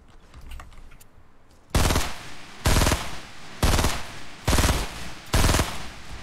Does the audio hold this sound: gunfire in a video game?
yes